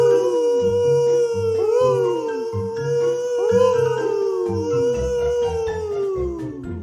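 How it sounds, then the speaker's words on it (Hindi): Cartoon foxes howl together in an animated forest story, several long wavering howls rising and falling in overlapping bursts, loud and close and continuous across the whole stretch with no talk. "तभी कुछ लोमड़ी चिल्लाने लगा।"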